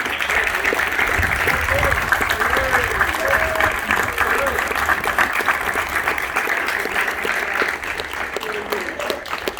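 Sustained applause from a crowd fills the space, steady and loud throughout, with a few voices audible beneath the clapping.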